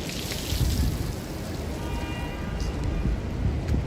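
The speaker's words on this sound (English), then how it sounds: "So it ain't really raining right now. It's just drizzling." Soft, steady patter of light drizzle in New York City, a continuous fine hiss on the ground with no voices over it.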